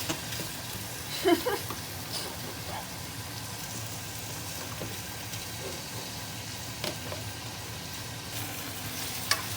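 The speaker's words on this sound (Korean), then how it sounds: "얼린 파라서 이게 튈 거예요." Frozen green onion and meat sizzling and splattering in a hot pan while cooking malatang, a steady close frying hiss with occasional pops and stirring clinks; voices chat quietly in the background.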